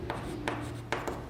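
A pen scratches across paper in short strokes while a geometry solution about right triangle ABC is written out, with a few brief distinct scrapes over a quiet room hum and no talking.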